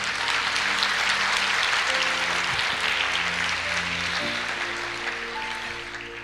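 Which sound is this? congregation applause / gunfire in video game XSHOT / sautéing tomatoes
congregation applause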